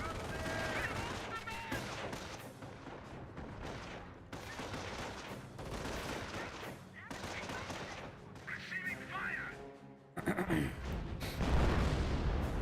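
MG42 machine gun fire in the Company of Heroes battle game, dense rattling bursts mixed with rifle shots and booms, continuous and loud across the stretch, with a heavier roar near the end.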